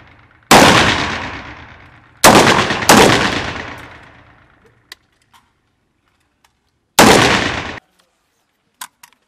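Rifle shots on an outdoor military firing range, four loud sharp reports fired singly with ringing decay between them, followed by a few faint distant pops.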